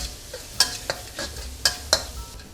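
A pan of fried tilapia with garlic and chili salt sizzles steadily as fish sauce goes in, with several sharp metallic spatula clinks and scrapes spaced across the sizzle.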